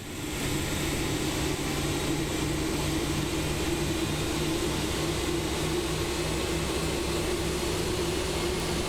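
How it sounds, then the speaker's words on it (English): Jet engines of an Airbus A330-200 in the MSFS 2024 flight simulator, a steady, loud broadband roar with a sustained low hum and faint high whine throughout, no voices. "So let's enjoy those spooling sounds. I believe they have fixed the sounds for the A330 in MSFS 2024."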